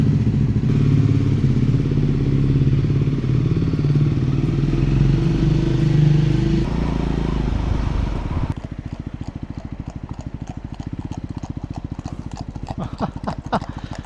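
A Triumph Scrambler motorcycle on the road gives a loud, steady engine drone with heavy wind rush, then drops to a lumpy, rhythmic low thumping as it slows, close and with no talk.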